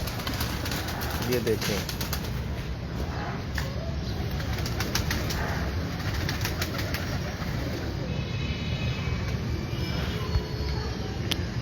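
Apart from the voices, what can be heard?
Aflatoon breeder pigeons cooing and flapping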